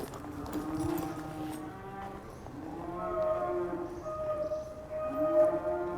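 Cattle mooing: several long, low moos from nearby, overlapping at times, with a faint clop of hooves in the background.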